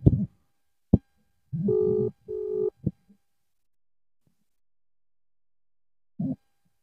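An unanswered video call rings out as two short electronic ringback tones, with faint clicks and near-silent gaps in between.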